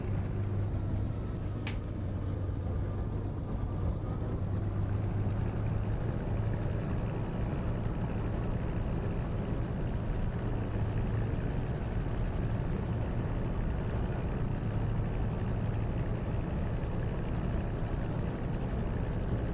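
A Spitfire LF IX's piston engine runs steadily in the DCS flight simulator after warming up on an airfield, a continuous low droning rumble holding at an even level throughout with no talk.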